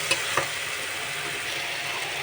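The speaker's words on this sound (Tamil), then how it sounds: "நல்லா இதை கிண்டி விட்டுக்கலாம்" Biryani masala frying in a pan, a steady close sizzle with a couple of sharp scrapes from a stirring spoon near the start.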